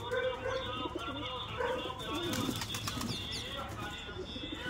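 Baby pigeons cooing softly at close range, repeated low coos and small chirps with faint wing flutters over a steady background hum.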